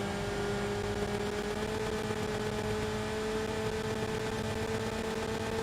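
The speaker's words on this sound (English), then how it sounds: "You can hear the sound of their very powerful engine right behind us." A powerful race car engine in Enthusia Professional Racing drones steadily, a continuous buzzing whine with steady tonal hum holding level throughout, no talk over it.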